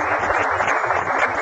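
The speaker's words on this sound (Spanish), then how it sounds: "un aplauso pues," Audience applause for a 12-year-old harpist at a televised presidential event, steady dense clapping filling the whole stretch without a break.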